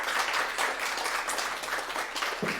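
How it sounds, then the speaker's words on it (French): Audience applause at a mobility solidarity initiatives award ceremony, a steady dense patter of many hands clapping throughout, moderately loud and without speech. "On l'applaudit bien évidemment."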